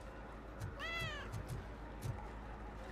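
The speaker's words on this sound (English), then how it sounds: "I hear a cat" A cat gives a single short meow, faint and somewhat distant against low background noise, with a few soft knocks around it.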